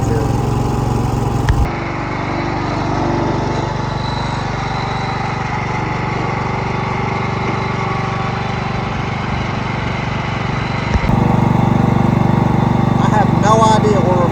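A Cub Cadet 104 lawn tractor engine, ant-infested and running on choke, drones steadily and loudly throughout, its pitch and roughness shifting slightly near the end.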